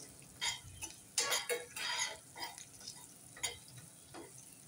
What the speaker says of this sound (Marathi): आणि हे जरा असं परतून घेते।